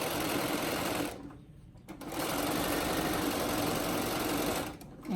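A sewing machine chain-pieces face mask fabric with a 1/4 inch seam, its steady close whirring stitching running continuously, pausing briefly twice before starting up again.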